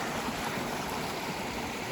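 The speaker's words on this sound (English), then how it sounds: "we've arrived at our campsite, which is across this awesome flowing river" Flowing river beside a campsite along a fall hiking trail: a loud, continuous rush of water filling the clip evenly, with no voices.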